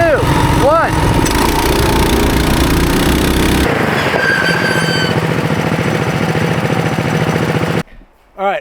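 Several Mega Moto 212 mini bikes, stock and built, roar at full throttle together during a stopping distance test, a loud continuous engine drone that cuts off abruptly near the end.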